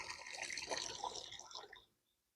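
Water sloshing and trickling inside an elephant-shaped watering can in a garden, a close, soft splashing swirl for about two seconds that stops abruptly, with no talking.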